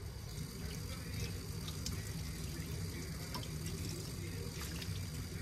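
Tap water runs steadily over a salmon fillet to loosen and remove its skin, a continuous soft gushing splash into a sink.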